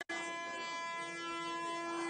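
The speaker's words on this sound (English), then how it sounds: "just blowing an air horn in people's ears" A single loud, sustained air horn blast with a steady harmonic tone holds for about two seconds after a brief gap at the start, at a street protest.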